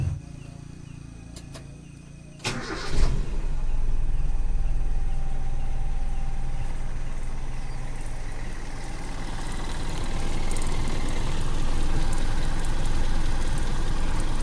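A Toyota Kijang car engine idles with a low, steady rumble that holds on after a brief clatter at startup, continuous and close by.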